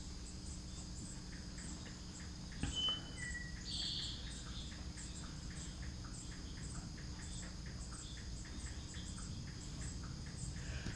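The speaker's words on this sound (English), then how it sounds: "So to listen to the birds outside" Faint outdoor ambience with soft, regularly repeating chirps and a few brief bird calls over a low background hum, quiet and distant.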